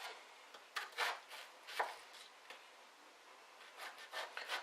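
Knife cutting food on a cutting board while preparing a chicken tomato pasta, a series of faint, irregular slicing and scraping strokes close by in a quiet kitchen.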